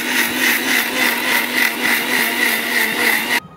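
A mixer grinder grinding coconut whirs steadily at high speed, a loud continuous motor whine with a slight pulsing rhythm, then cuts off abruptly near the end.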